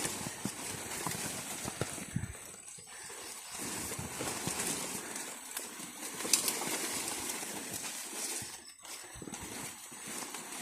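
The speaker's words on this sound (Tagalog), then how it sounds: "Medyo hirap lang ito kabayo," A horse hauls coconut seedlings uphill, its hooves clip-clopping in irregular steps on the trail amid rustling and birdsong, with someone speaking now and then.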